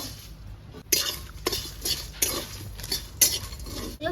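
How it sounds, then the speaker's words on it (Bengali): Spices dry-roasting in a dry wok with no oil, stirred with a metal utensil: repeated scraping and clinking strokes come roughly every half second over a low background rumble, close and fairly loud, with no talking. "শুকনো কড়াইয়ে ভাজতে হবে বন্ধুরা তেলে ভাজলে হবে না"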